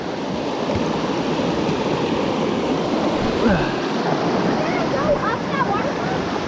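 Waterfall on Wolf Creek in Vogel State Park, a loud continuous rushing roar of falling water close by throughout, with a faint voice briefly under it.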